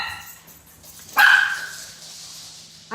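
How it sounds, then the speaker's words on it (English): A single muffled dog bark from somewhere off in the house, brief and fairly faint over a quiet room hum, followed by near silence. "I hope Ruby can't hear the dogs"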